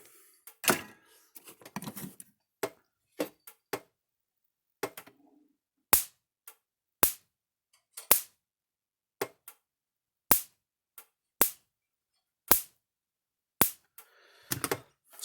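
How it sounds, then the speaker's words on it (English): An American Farm Works electric fence charger fires unloaded, giving sharp, loud spark snaps at a steady pulse of roughly one per second, each crack isolated against near silence. "See what kind of spark it throws now."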